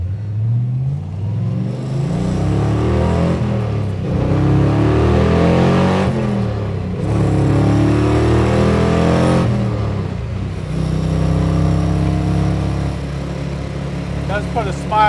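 A 1965 Ford Mustang Shelby GT350 tribute's muscle-car engine pulls hard on the road, a loud, close, rising roar with gear-change dips, running steadily through the whole stretch.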